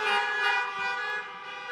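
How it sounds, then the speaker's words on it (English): A car horn sounds in a long, loud, steady honk held for under two seconds, a bright tone with no voices over it, in an outdoor setting during a university convocation ceremony. "give us a honk"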